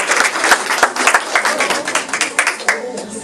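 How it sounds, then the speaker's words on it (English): An audience at a Srimad Bhagavatham class in a cultural center claps for the kids, a steady patter of many hands at moderate volume, fairly close, filling the whole moment. "It's a big round of applause to kids."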